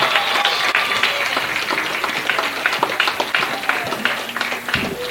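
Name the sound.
applause for student athletes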